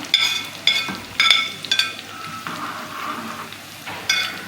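Finely chopped garlic dropped into hot oil for a tadka sizzles in bursts, sharp crackling spurts repeating every half second or so and fading between, close and clear with no talking.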